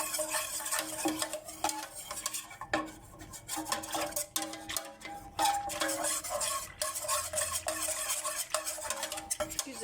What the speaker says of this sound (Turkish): çırpma teliyle ocağımıza almadan güzelce bir karıştıralım